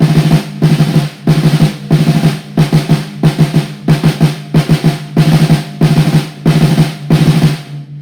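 Snare drum practice alternating a check pattern of eighth notes with five-stroke rolls in a drumset lesson, a steady close stream of single strokes and quick buzzy roll bursts repeating in a regular cycle.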